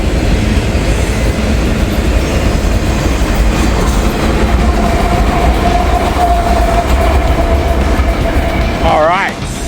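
A long freight train with a distributed-power (DPU) locomotive rolls past close by, a loud steady rumble with wheel clatter throughout and a rising horn-like tone near the end.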